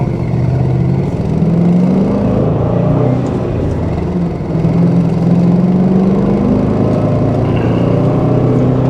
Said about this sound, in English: This car does sound really good with the Flowmasters that are on it.